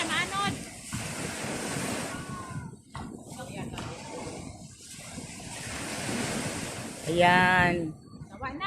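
Surf washes onto the shore with a broad rushing hiss and wind buffeting the microphone, while people talk and call out over the waves.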